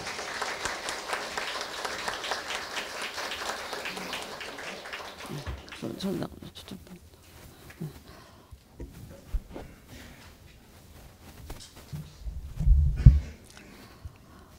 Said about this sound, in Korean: 축하의 박수를 보내주시기 바랍니다